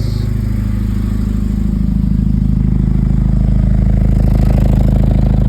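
A Nissan 240SX engine runs steadily up close with a low, rumbling idle and a rapid ticking chuff from an exhaust leak, loud and continuous with no talking.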